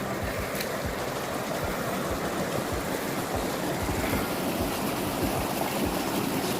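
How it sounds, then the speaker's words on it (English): A small river rushes steadily through a narrow slot canyon in Zion on the way to the Subway, a continuous close wash of flowing water with no talk. "A little slot, the mini river."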